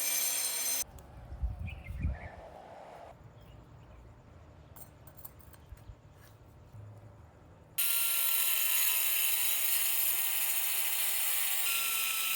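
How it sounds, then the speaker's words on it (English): An angle grinder with a stone cutting disc works through stone, shifting between gritty scraping passes and a louder, high whining spin toward the end. "I used the grinder to cut it into 2 pieces and shaped the basic circles with"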